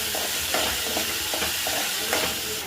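Onion, chili and ginger garlic paste sautéing in coconut oil for a fish curry, a steady close sizzle with several soft scrapes of a spoon stirring through the pan.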